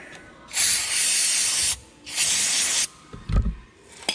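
Two sustained bursts of aerosol spray hissing loudly during a Mitsubishi Eclipse Spyder build, each lasting about a second, followed by a few short clicks and knocks.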